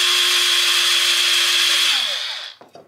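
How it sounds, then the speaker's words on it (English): A power drill whines steadily through the bottom of a plastic Dollar Tree cloche, loud and close, for about two seconds before spinning down and stopping, followed by a couple of small clunks. "I'm just gonna try to drill it"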